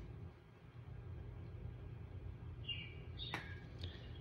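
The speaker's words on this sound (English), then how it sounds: "did the bird chirp get you?" A short bird chirp rings out on a simulator golf course, a couple of quick bright calls near the end over a steady low rumble of room noise.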